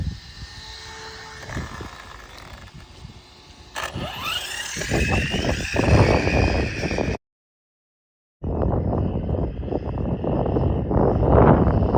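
Electric RC car at full throttle on an Urgenex 3S 2200 mAh LiPo, a loud high whining motor rush that builds and passes, cuts out briefly, then returns as a sustained strong whine.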